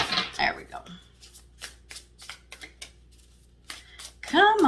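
Tarot cards are shuffled by hand in a series of quick, crisp riffling flicks and slides, close and moderately loud, with a person speaking at the start and end.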